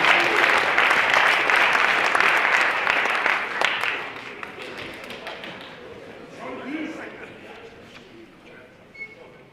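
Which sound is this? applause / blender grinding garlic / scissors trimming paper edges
applause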